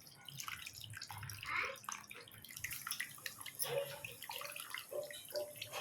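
Tamarind pulp juice is poured into a pot of fish curry, giving close, irregular splashing and trickling water sounds with scattered drips.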